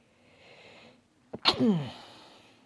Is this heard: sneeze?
yes